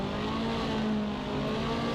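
A race car engine held at steady high revs before a drag start in the Assetto Corsa racing game, a loud, even, sustained drone with no talking.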